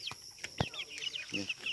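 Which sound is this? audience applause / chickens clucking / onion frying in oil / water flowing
chickens clucking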